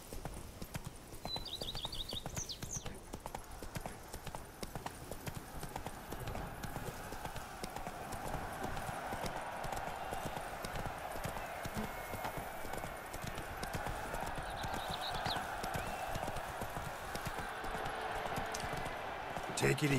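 Horse hooves clip-clop steadily on a steep path in The Witcher 3 Blood and Wine, a continuous moderate trot under game ambience with faint neighs, while someone talks intermittently.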